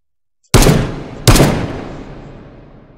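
Two loud, sharp rifle shots go off about three quarters of a second apart in a VR shooting game played with a rifle stock, each followed by a long reverberant tail that fades slowly.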